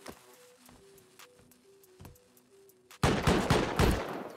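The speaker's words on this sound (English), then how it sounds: "So it's not even damaging with explosive bullets." Explosive bullets fire in the Rust video game. Sparse single gunshot cracks ring over a quiet game background with faint tones, then a loud, dense burst of rapid automatic gunfire breaks out for the final seconds.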